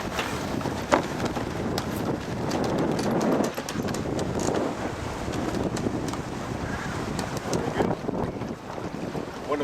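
Sailboat coming around to a beam reach in the British Virgin Islands, with a steady rush of wind across the microphone, water and boat noise, and occasional knocks and rattles throughout.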